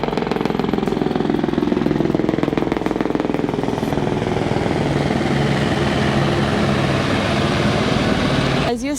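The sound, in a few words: helicopter flying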